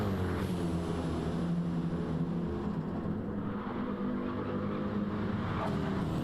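Race cars in a slipstream battle in a sim racing game of the Nürburgring 24h, a steady, dense engine drone with whining harmonics holding loud and close throughout, no voices.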